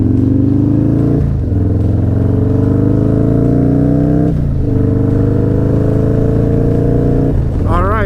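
Harley-Davidson Milwaukee 8 motorcycle accelerating on a ride, engine pitch climbing steadily through three gear pulls with brief dips at each shift, loud and close throughout.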